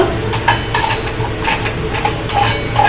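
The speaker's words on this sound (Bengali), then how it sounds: "এই গরম তেলের সঙ্গে কিন্তু এই মশলাগুলো ভালো করে নেড়ে নেব" Turmeric, garlic and Kashmiri chili powder being stirred in hot oil, with repeated sharp spoon-on-pan scrapes over a continuous close sizzle, no talking.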